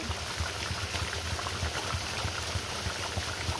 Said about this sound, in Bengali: এখন আমার তরকারিটার বলক চলে এসেছে